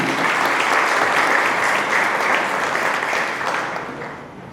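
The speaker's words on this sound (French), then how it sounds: "Donc je vous demande d'applaudir Nordin Saïd, même s'il n'est pas avec nous." A crowd applauds steadily and loudly for several seconds, the clapping thinning and fading toward the end.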